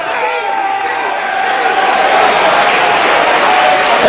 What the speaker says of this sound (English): And this crowd is on their feet here in Brooklyn